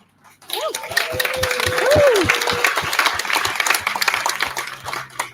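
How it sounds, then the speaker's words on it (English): Audience applause breaks out during an introduction of a Special Olympics Illinois athlete at the Summer Games, a broad, steady patter of many hands with a voice heard briefly near the start. "I can't even get halfway through my introduction and get applause"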